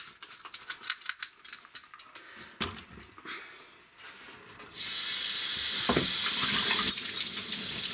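Tap water runs over a new imported cup being rinsed at a sink, starting with irregular splashes and clinks, then settling into a steady, loud hiss of running water near the end.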